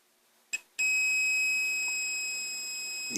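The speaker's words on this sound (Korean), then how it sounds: "테스터기에서 도통 테스트 구조를 맞춰놓고 테스트를 해보게 되면 삐 소리가 나게 되면 알 수가 있습니다" A short electronic blip, then a steady high-pitched beep that holds without a break, clear and close, from a meter's continuity tester.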